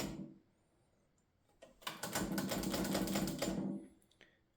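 A Stoewer Elite manual typewriter with paper fed around the platen by its rollers, giving a steady two-second run of close, busy mechanical clatter that follows a few isolated knocks and stops abruptly, with no voices.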